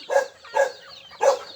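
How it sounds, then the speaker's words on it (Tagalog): A dog barks three times at close range, sharp and fairly loud, with short pauses between each bark. "May aso dito na matapang."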